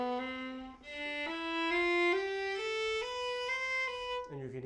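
A viola plays a bowed run of eight notes stepping upward in a single bow, each pitch held briefly and joined smoothly, close and clear with no talking.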